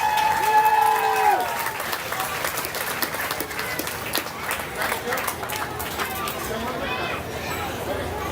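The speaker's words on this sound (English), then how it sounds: "Give her a round of applause." Crowd applause in a county fair arena after a mutton bustin' ride, sustained clapping from the stands with scattered voices and a brief whistle-like tone near the start.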